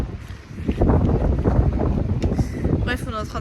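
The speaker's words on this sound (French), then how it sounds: "C'est quoi ce vent de malade là? Carrément on s'envole." Strong gusting wind buffets the microphone on a seaside dike in Brittany, a loud steady roar of wind noise with voices briefly heard.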